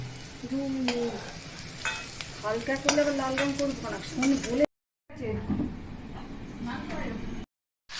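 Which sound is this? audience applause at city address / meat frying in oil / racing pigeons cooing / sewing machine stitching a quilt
meat frying in oil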